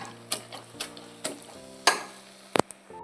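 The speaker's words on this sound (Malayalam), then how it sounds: "ചക്ക ഇവിടെ റെഡിയായി വന്നിട്ടുണ്ട് അപ്പോൾ അത് ഇനി ഇളക്കി കൊടുക്കാം" A ladle stirring jackfruit curry in a pot, a few separate scraping strokes and clinks spaced out over a low background hum, close by, with a quick double metallic tap near the end.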